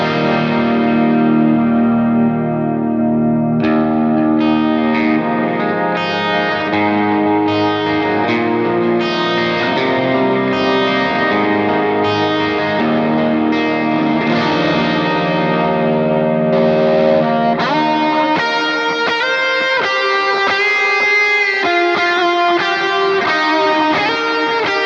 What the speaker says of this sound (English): Add some reverb to it.